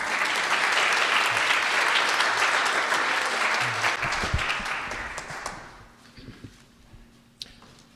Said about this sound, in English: Give this group one more round of applause.